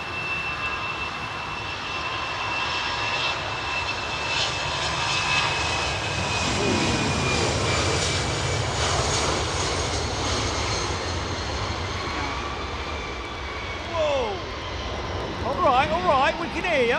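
A jet airliner departs from London Heathrow Airport, its engines roaring steadily for a long stretch with a rising whine, while people talk nearby and birds chirp near the end.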